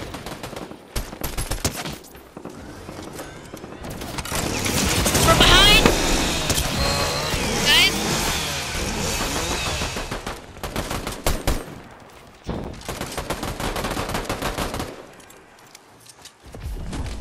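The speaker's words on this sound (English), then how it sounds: "We have gunfire" Video game gunfire crackles in bursts and automatic volleys alongside mechanical clatter and rumbling, with someone talking over parts of it.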